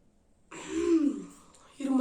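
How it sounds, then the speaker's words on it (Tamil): A single throat-clearing cough, then the start of a second, from a person who has just sniffed pepper powder during a sneezing challenge; close and fairly loud, with no sneeze. "இருமல் தான் வர மாதிரி இருக்கு, ஒளிய தும்மல் வரல."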